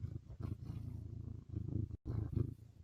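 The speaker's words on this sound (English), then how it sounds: "I think you can hear his purr." A cat purrs in a steady, low rumbling rhythm close by, continuous for a few seconds with a brief break near the end, no talking over it.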